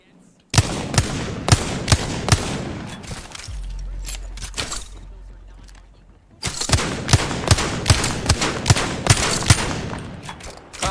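Rapid gunfire in Valorant during a professional match: dense bursts of close, sharp shots in quick succession, a pause with a low rumble and lighter clicks, then another sustained volley of loud automatic fire.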